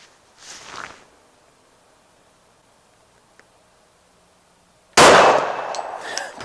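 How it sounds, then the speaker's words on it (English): A Glock 21C pistol firing old .45 competition loads: after a faint earlier clank and a long quiet stretch, one sharp, loud, close report bursts out and rings briefly. "So what does a Glock 21C when you shoot it?"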